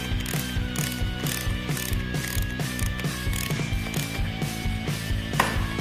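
A ratchet tightens the nut on a cardan joint head of a classic Mini, giving a fast, even train of sharp metallic clicks, close and loud, with no voices.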